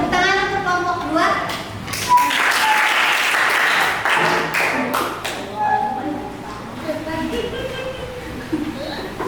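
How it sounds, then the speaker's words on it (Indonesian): A class audience claps for a student presentation group with steady applause, close and fairly loud, while voices and children's chatter carry through the clapping. "tepuk tangan untuk kelompok 2"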